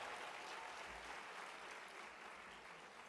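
Audience at a charity luncheon and silent auction claps in a continuous, fairly distant wash that fades slightly toward the end.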